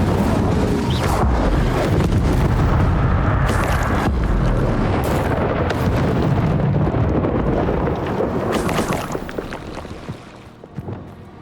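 Explosive spells, Bombarda and Confringo, are cast in the Hogwarts Legacy video game. They make loud, dense, rumbling blasts in a sustained chaotic barrage that tapers off near the end, with no talk.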